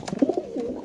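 A male racing pigeon in a caged pair at a pigeon farm coos in a few short, close, low throaty notes that run into a softer continuing murmur.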